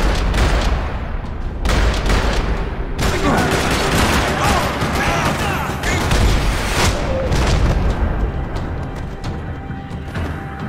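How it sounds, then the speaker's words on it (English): Gunfire rattling through a parking lot in the video game Max Payne 3, repeated loud bursts of shots and booming impacts over dense action noise, with a voice speaking partway through. "Another parking lot rattling with gunfire."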